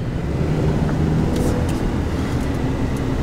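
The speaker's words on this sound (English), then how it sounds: "acceleration's really nice with the turbo" A turbocharged SUV accelerates on a test drive, heard from inside as a steady, loud low engine and road rumble with no talk.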